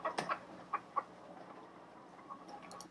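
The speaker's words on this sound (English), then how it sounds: "Okay, chickens, right?" Quiet, close chicken clucks in a few short bursts, scattered over a soft background.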